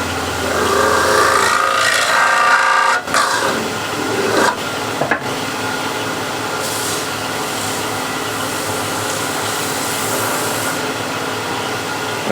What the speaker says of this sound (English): use the cleaner rag to wipe away any excess wax, oil